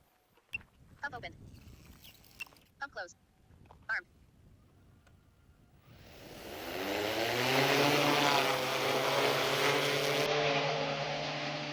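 X6 agricultural spraying drone running on a 30,000mAh battery: a few sharp clicks and beeps, then its propellers spin up at about six seconds into a loud, steady, whining buzz that holds to the end.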